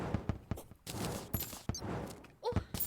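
Gunfire from an enemy sniper in the Terraria video game, several sharp shots in a quick burst over busy game sounds, loud and close.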